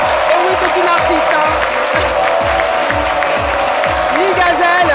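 A television studio audience claps loudly to welcome a female artist, steady applause over a thumping rhythmic music beat, with a voice heard faintly underneath.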